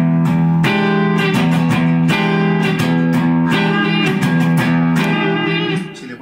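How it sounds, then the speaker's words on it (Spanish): An electric guitar strums an E ninth chord in a steady choppy rhythm, loud and close, each stroke ringing with a slight buzz before the last one fades. "Y este acorde lo vamos a hacer sonar con esta rítmica."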